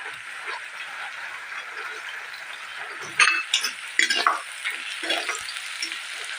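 Garlic fries with browned onions in a pan, giving a steady sizzle throughout, broken midway by a few metal clinks and scrapes of a stirring spoon.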